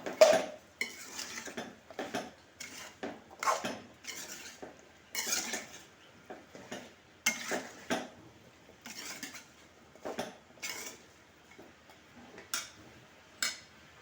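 A spoon scrapes and clanks repeatedly against a metal pot while a curry with chili powder is stirred, irregular close clinks spread over the whole stretch with no talking.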